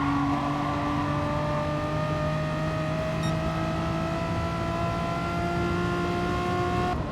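A Renault Megane Trophy race car's engine drones loudly and steadily from inside the car at racing speed, holding a sustained, slowly rising pitch with no pauses.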